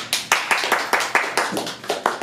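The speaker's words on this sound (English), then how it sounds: "I think that deserves a round of applause" A small group clapping at a live radio show in Akron, Ohio, in a quick, fairly regular rhythm of distinct, close claps, like a handful of people or a single pair of hands.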